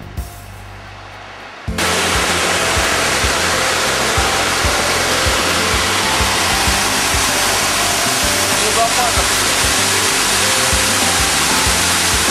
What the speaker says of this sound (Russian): Водопад Шерлак.